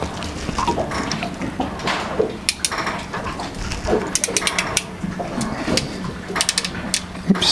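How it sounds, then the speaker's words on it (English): A ratchet crimping tool squeezes terminals on 12v wiring for boat and RV cup holder lights, giving off close, sharp clicks in uneven bursts over a low mechanical rustle. "Oops, I missed the ratchet, so you go till it releases."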